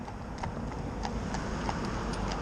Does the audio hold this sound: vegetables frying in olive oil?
no